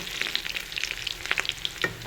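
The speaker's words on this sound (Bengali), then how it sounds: "মাছের ডিম ভাজা" Close, steady sizzling of fish roe frying in hot oil, with crackling pops scattered throughout.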